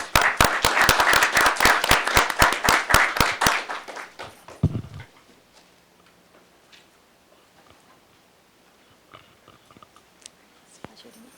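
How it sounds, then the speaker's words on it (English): Audience applause welcoming the Mayor of Medford at a school event, a dense burst of clapping for about four seconds that stops abruptly, followed by a quiet room with faint rustles. "please give a warm round of applause for the Mayor of Medford"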